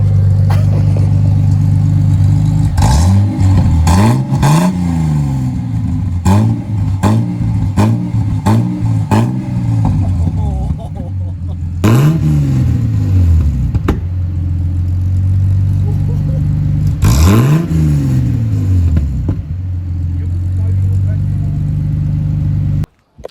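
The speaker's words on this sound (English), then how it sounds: "I sat there revving the car for much longer than was necessary." Ford AU Falcon with a custom muffler and side-exit exhaust revving repeatedly, loud and close, each blip rising and falling back to a steady idle, with several quick bursts early and two longer revs later.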